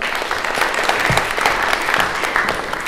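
An indoor audience at a poetry reading applauds warmly, giving a dense, even patter of many hands clapping that holds steady throughout.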